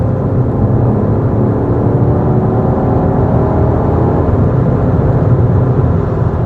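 BMW X5M Competition engine pulling hard at full throttle in fifth gear, a loud, steady low roar mixed with road and wind noise heard from inside the cabin.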